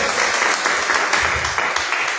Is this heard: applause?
yes